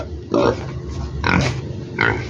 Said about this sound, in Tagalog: nag-iwan lang ako ng isang baboy